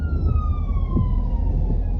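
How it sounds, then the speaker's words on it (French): An emergency vehicle siren wails steadily with a slowly falling pitch on a road in Lyon, loud and continuous over low traffic rumble, with no talking. "On entend la sirène."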